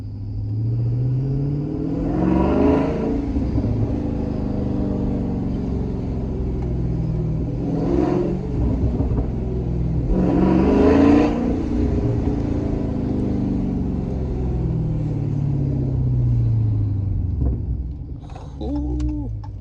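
A Dodge Scat Pack fitted with a JLT cold air intake rumbles at a steady idle, then is revved in three surging bursts that rise and fall, the intake roar loud and close throughout.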